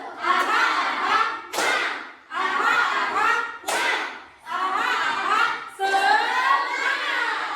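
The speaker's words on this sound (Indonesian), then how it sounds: "Oke, tepuk tangan untuk kita semua" A sixth-grade class in Indonesia clapping together in short rhythmic bursts, four or five loud patterned rounds of claps separated by brief pauses, with children's voices mixed in.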